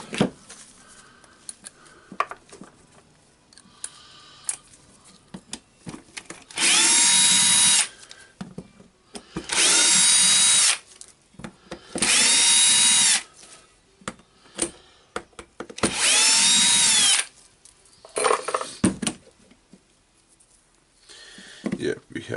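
Power drill whirring during disassembly of a Dewalt D25831 SDS plus rotary hammer, in four steady bursts of a couple of seconds each, separated by clinks, rattles and handling of metal parts and tools.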